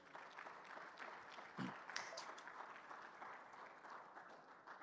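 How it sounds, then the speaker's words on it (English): Applause from a youth town hall audience, a soft, steady patter of many hands clapping at moderate distance, with faint voices mixed in. "Give yourselves a round of applause,"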